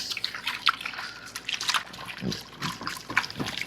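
Plaster of Paris being stirred with water into a thick mix, wet sloshing and dripping with irregular squelches and splats, close and moderately loud, no talk.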